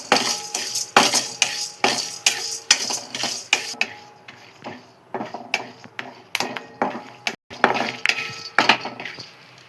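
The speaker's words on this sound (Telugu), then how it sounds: "Next Musk melon seeds వేయించుకుంటున్నాము." Muskmelon seeds roast in a pan while a metal spoon stirs them, giving repeated rhythmic scraping and clinking strokes, steady and close, with no talk.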